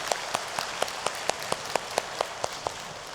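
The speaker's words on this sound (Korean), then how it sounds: "하나님께 영광의 박수 올려드리겠습니다." Slow, evenly spaced single claps, about a dozen sharp hand claps in a steady rhythm during a Korean Sunday church worship service, fairly quiet and heard alone.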